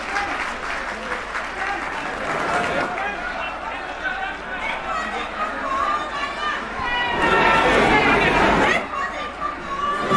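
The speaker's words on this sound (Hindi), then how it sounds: "जोरदार तालियों से स्वागत करिए संजय भैया का" A political rally crowd claps loudly to welcome Sanjay Singh, with chatter and shouting mixed in. The applause swells into a stronger, fuller burst toward the end, and voices can be heard throughout.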